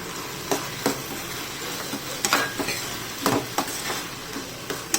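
Tomatoes sizzle steadily in a pan with intermittent scraping and stirring knocks from a utensil, continuous and close, no voices.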